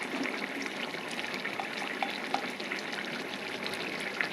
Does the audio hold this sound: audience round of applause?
no